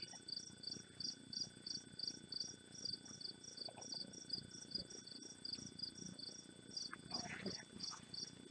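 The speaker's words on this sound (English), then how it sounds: "Cicadas, crickets." Outdoors, crickets and cicadas chirp in a steady rapid pulsing rhythm, with a high continuous buzzing drone behind them and faint rustling below, no voices present.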